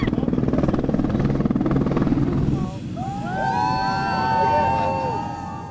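Helicopter landing at a Christmas parade event in Quincy, its rotor beating loudly in a rapid pulse before the thumping fades into a softer hum as other tones rise over a crowd.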